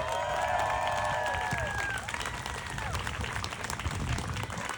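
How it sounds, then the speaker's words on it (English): A rally audience gives a sustained round of applause at a May Day event, with dense, steady clapping and some cheering voices rising and falling early on, filling the whole stretch at close range. "Let's give them one more big round of applause."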